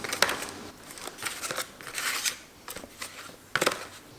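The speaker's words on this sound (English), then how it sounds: "for this, I'm gonna cut all 4 sides and then rip it out" Metal snips cut stainless steel sheet in a series of short, sharp crunching snips at irregular intervals, close and fairly quiet.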